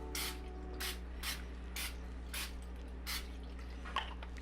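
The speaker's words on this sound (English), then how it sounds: "we're going to take a little cooking spray," Cooking spray hissing onto a baking dish for a Jiffy corn casserole, about seven short, sharp bursts in an uneven rhythm, close and fairly quiet over a low steady kitchen hum.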